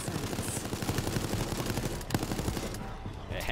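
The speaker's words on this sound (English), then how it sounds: "Pull out the old gun." Gunshots in Resident Evil Resistance come as a dense, continuous rattle of rapid shots over game noise, steady in level with a sharper crack near the middle.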